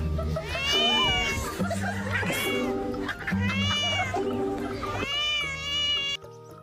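A cat meows several times in a row, drawn-out and whiny, each cry rising and falling, loud and close.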